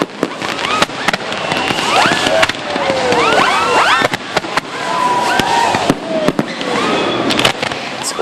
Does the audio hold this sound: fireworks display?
yes